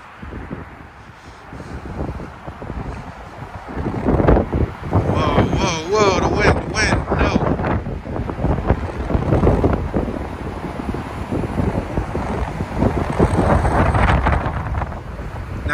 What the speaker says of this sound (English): Today, it is extra windy.